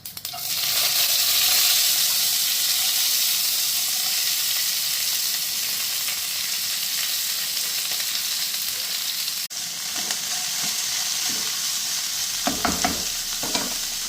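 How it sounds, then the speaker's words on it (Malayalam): Urad dal and mustard seeds sizzle and crackle in hot coconut oil in a pan, a loud steady frying hiss lasting throughout, with a few sharper pops and stirring near the end. "വെളിച്ചെണ്ണ ഇവിടെ ചൂടായി വന്നിട്ടുണ്ട്. നമുക്ക് അതിലോട്ട് ഉഴുന്നുപരിപ്പും കടുകും കൂടെ ചേർക്കാം."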